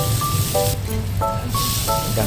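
Onion and garlic sauté in a hot pan with a steady, loud hiss throughout, while sustained tonal notes, likely background music, sound over it.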